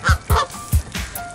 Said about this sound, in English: Geese are getting kind of wrestled up here.